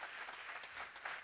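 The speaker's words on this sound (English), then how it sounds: "Big round of applause for the Mud House for putting out some coffee today." Applause from an audience at a live debate, a steady wash of many hands clapping together for just over a second, fairly close and even in loudness.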